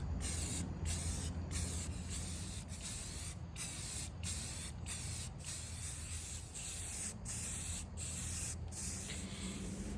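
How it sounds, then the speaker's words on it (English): Continuous aerosol spray of primer onto scrubbed furniture legs outdoors on a cold, very windy day, a steady close hiss broken by short pauses between bursts, with wind noise underneath. "I decided to spray this primer on."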